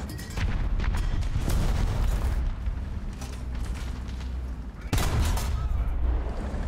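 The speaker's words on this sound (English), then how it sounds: "Oh, that was just machine gun." Machine gun fire in the tank game War Thunder, rattling bursts over continuous engine rumble and clanking tank tracks, with a sharp louder crack near the end.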